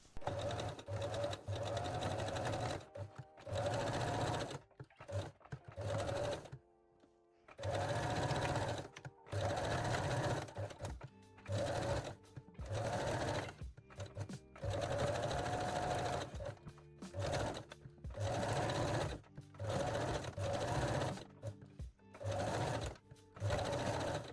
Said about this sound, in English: top stitch the lace along the curved edges using a zigzag or 3-step zigzag stitch